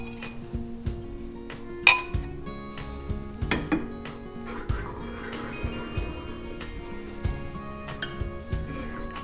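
A utensil clinks against a pan while eggs are stirred in melted butter for a Sunday brunch, giving repeated light metallic taps and scrapes, close and fairly clear with no talking.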